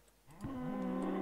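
In the video game Minecraft, a cow lets out one drawn-out low moo that begins after a brief quiet moment and carries to the end, fairly faint against soft background sound.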